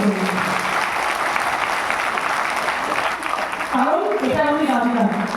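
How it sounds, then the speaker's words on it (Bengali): Audience applause at a gathering in Siliguri, a dense, loud spell of clapping that holds for several seconds and then thins while a voice starts speaking over it. "প্রত্যেকে জোরে একটা হাততালি দিন"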